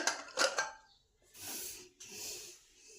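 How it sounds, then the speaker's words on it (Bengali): A pressure cooker that has just boiled potatoes is opened: a few quick metallic clanks of the lid, then short, soft bursts of hissing steam, all fairly quiet and close. "প্রেসারে ঢাকাটা খুলি দেখি কি অবস্থায় আছে"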